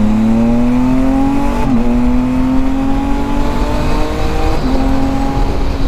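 A Can-Am vehicle accelerates hard on a highway, its loud close engine note climbing steadily in pitch, with brief dips at two gear shifts.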